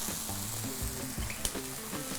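A pan of thyme and a splash of whiskey, set alight for a flambé, sizzles and crackles steadily for a moment in a kitchen, close and fairly quiet, with no one talking.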